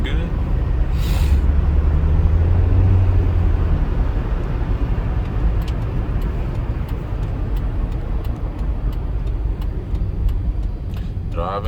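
A 2008 Jeep driving along a road, its steady engine and road rumble filling the cabin loud and continuous, with a brief whine near the start and no one talking.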